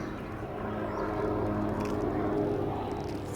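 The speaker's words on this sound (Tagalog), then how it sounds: "Ay, helicopter." Helicopter passing overhead during an outdoor walk, a steady low rumbling drone holding at moderate distance for a few seconds with no talking.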